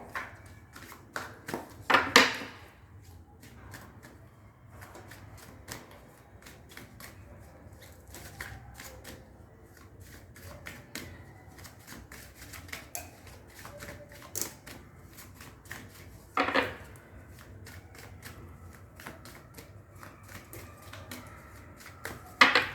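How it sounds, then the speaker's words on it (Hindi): Tarot cards are shuffled by hand in quick riffling bursts and soft flicks, close and fairly quiet, with a few louder riffles standing out against a low background hum. "ओके, काफ़ी शफल कर लिया है।"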